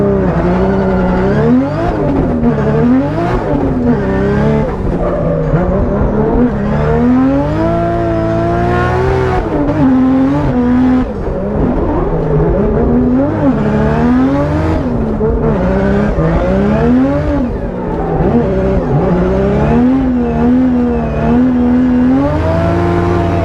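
A 2JZ-powered BMW E36 drift car laps a track, its engine loud and close, revving up and down in repeated surges with shifting pitch and occasional tire squeal as it slides through corners.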